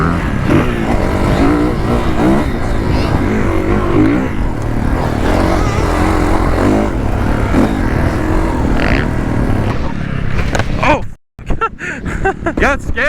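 A Kawasaki KX450 dirt bike ridden on a track, its engine loud and close with sustained revving and throttle changes, cutting out briefly near the end before resuming; a voice is heard over the engine.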